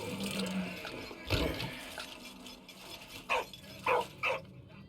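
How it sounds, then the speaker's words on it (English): A dog in the World War I game Valiant Hearts gives a few short, sharp barks close by, the last three coming in quick succession over quieter ambient game sound. "That's a good dog."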